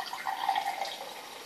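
Water runs from a tap into a cup, a brief steady trickling pour heard up close with no voices.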